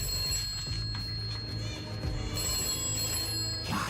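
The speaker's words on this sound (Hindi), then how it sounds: "जल्दी से फोन उठाओ ना" An old-style telephone bell rings in repeated bursts, close and fairly loud, with faint voices mixed in under the ringing.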